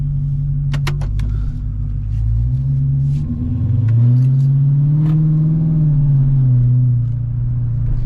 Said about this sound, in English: why are you revving your car with an oil change